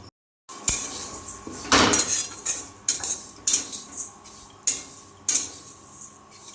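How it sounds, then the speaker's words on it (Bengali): Moong dal is stirred in ghee in a pan, making a series of close metal spoon scrapes and clinks that repeat about every second. "ঘি দিয়ে ডালটা ভেজে নিচ্ছি"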